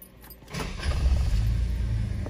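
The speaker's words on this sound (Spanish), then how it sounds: "vamos a encender el auto para ver" A 2003 Chevy Trailblazer with a faulty engine coolant temperature sensor starts up: a brief cranking burst, then the engine catches and settles into a low, rumbling idle close by.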